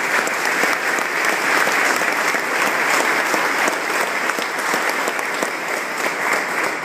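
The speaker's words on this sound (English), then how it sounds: "A little round of applause for Jim." At a Memorial Day ceremony, a room full of people claps steadily and loudly, dense continuous applause with no voices standing out.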